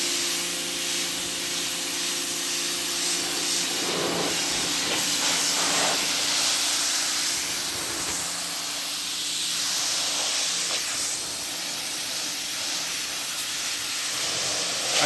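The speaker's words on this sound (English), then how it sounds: "I just have a little power washer" A small power washer sprays a very dirty truck with a steady, close hissing rush of water that holds nearly constant throughout, with slight surges.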